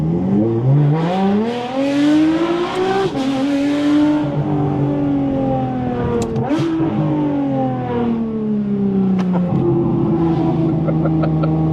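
A powerful Porsche 911 GT3 RS engine revs loudly and continuously, pitch climbing and falling through gear changes, heard from inside the car.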